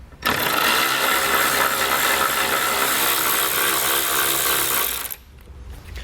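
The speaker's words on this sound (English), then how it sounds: "we'll want to grab a 10mm socket and we'll pull those bolts out going across the front" A ratchet with a 10mm socket backs out bolts behind the front grille of a 2016 GMC Sierra pickup, a loud continuous mechanical whir running about five seconds before stopping, with no talk.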